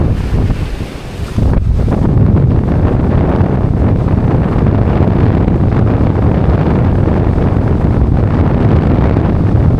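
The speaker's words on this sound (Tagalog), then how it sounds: "malakas pa ngayon ang hangin" Strong typhoon wind from Typhoon Uwan in Dinahican, Infanta, Quezon buffets the microphone in a constant heavy roar, with a brief lull early on before the gusts surge back and hold steady.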